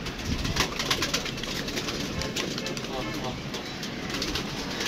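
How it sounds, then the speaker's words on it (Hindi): Many pigeons gathered inside a netted enclosure coo and flutter in a steady, busy murmur, with birdsong and rustling throughout at moderate loudness. "रौनक लगी हुई है जाल में, काफ़ी कबूतर है"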